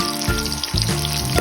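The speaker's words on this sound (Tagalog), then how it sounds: "This time, nag-start na ko mag-prito." Milkfish frying in hot oil in a home kitchen, a brief crackling sizzle with a few soft low thumps, close and moderately loud, with no talking.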